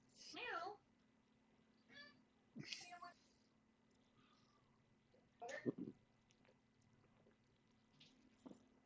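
A pet cat howls and meows in a few separate drawn-out calls, with quiet gaps between them and faint room noise underneath.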